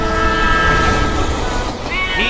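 A train in a prison escape chase scene rumbles loudly and steadily throughout, with a drawn-out horn-like tone rising near the end.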